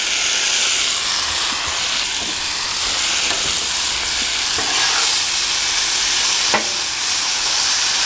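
Tomatoes stirred into fajita meat sizzling on a Blackstone griddle, with cilantro mixed in: a steady, loud broadband sizzle and hiss throughout, broken by a few scraping spatula strokes, with no talk.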